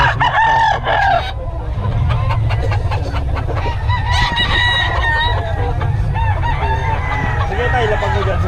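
Several roosters crow and hens cluck close by at a gamecock market in Bocaue, with overlapping loud crows and steady clucking over a busy crowd murmur, and voices talking in the background.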